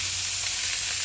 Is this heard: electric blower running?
no